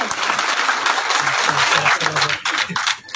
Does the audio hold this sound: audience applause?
yes